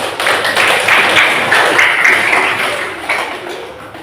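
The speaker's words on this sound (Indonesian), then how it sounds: "Jadi tepuk tangan dulu kan?" A small group of participants in a classroom coaching and academic supervision session claps briefly together, a short, moderately loud patter that tapers off.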